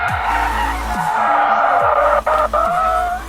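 A car in a racing video game drives with a steady engine drone while its tires skid and squeal in repeated bursts, loud and close, with no voices.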